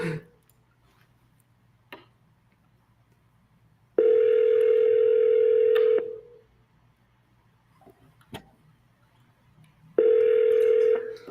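During a cold sales call, a phone line rings back twice, each steady electronic tone lasting about two seconds and separated by a long quiet gap with faint clicks.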